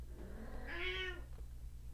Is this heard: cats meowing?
yes